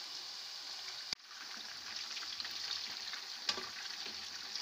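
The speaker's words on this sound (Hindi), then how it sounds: "कबाब फ्राई हो चुके हैं, इनको मैं निकाल लेती हूँ।" Beef kebabs fry in a hot pan with a steady, close sizzle, broken by a sharp clatter just past one second and a brief spatter burst near three and a half seconds.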